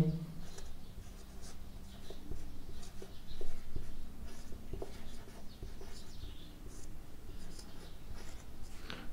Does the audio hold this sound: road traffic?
no